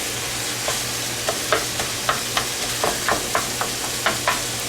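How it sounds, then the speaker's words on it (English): Ground beef with taco seasoning frying in a pan, a low steady sizzle under a dozen soft, evenly spaced scrapes as a utensil moves the meat around, no speech. "I'm just going to go ahead and move that around, let this cook."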